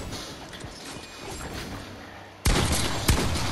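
Fortnite gunfire comes as sharp shots in the second half after a quieter stretch of game ambience, a loud sudden burst followed by a strong crack.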